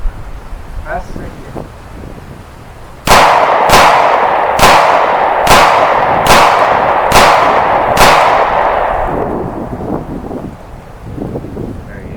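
Seven rapid shots from a Glock 43X pistol crack out loud and close in a quick, even string, each sharp report ringing briefly over steady outdoor wind noise.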